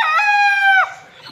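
A single loud, close rooster crow rings out from a backyard flock of chickens, a long steady call that drops away sharply near the end, with no talking.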